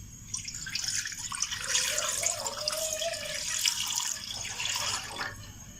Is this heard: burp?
no